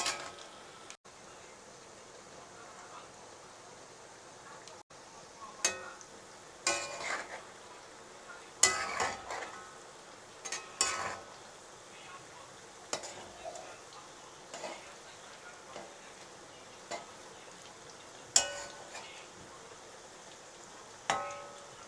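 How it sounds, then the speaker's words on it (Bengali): Onions for piyaju fry gently on low heat in a pan, a faint soft sizzle punctuated by scattered light clicks and scrapes as the slices are turned over, quiet and without talking. "হালকা তাপে রাখে এপিট ওপিট করে পেঁয়াজগুলো ভেজে নেবেন, তাহলে পেঁয়াজগুলো খুব মুচমুচে হবে।"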